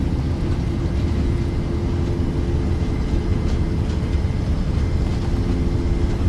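A PMDG 737-800 airliner rolls down the runway on its takeoff run in Microsoft Flight Simulator, a steady broad rumble of jet engines and wheels with no letup, loud and alone.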